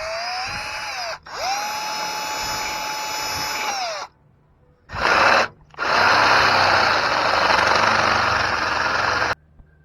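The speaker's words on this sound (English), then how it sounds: "Now with those divot marks, I can drill a 3/16 pilot hole." A power drill whines at steady speed in two long bursts, separated by short pauses, then a rougher, louder stretch as the 3/16-inch bit bites into metal, boring a pilot hole for a bolt-on idler support frame gusset.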